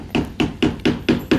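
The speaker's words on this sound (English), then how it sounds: "Sorry about the hammering here." Hammer blows on wood as vendors set up stalls in a barn at a farmers market, six evenly spaced loud strikes in quick steady rhythm, close by.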